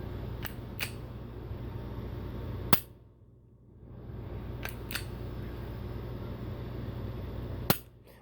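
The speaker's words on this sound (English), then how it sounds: "That's the trigger reset right there." A Smith & Wesson M&P Compact 9mm handgun gives several sharp, quiet clicks as its light trigger is pulled and reset, with short pauses between them in a very quiet room.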